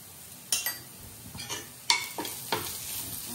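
Garlic, cumin powder, black masala and red chilli powder sautéing in a pan for raw banana curry: a quiet sizzle broken by a few sharp clinks and scrapes of a spoon stirring against metal.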